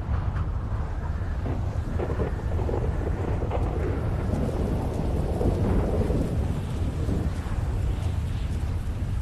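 Heavy rain and rolling thunder in the game GTA V roar steadily throughout, a dense low rumble with continuous hiss, no voices.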